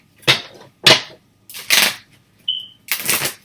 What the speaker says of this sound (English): Just flip these cards and shuffle them out.